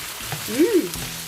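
Onion and chicken fry in oil as they are mixed together in a pan, giving a brief, soft sizzle with light stirring over about a second.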